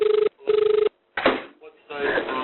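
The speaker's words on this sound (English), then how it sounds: "That new line is ringing now, won't be long." Telephone ringback on an emergency call line, two loud electronic trill bursts with a pause between, then a voice speaking over the line.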